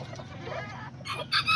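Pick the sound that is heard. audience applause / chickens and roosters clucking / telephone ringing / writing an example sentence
chickens and roosters clucking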